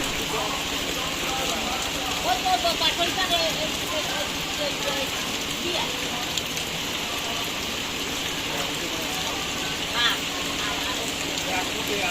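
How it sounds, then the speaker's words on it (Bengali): Steady rain patters down outdoors, a soft continuous hiss with occasional louder drops, faint voices mixed in. "টুপটাপ করে কিন্তু বৃষ্টি পড়া শুরু হয়ে গেছে"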